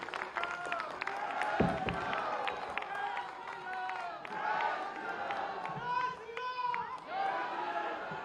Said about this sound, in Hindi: एक बार जोरिया तालियां बजाकर सबका स्वागत करें।